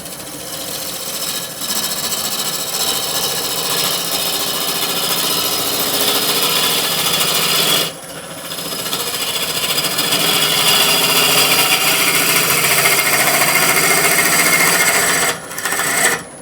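Gouge cutting a cherry root ball hollow form on a wood lathe: a loud, continuous rough cutting roar with two brief dips where the tool comes off the wood.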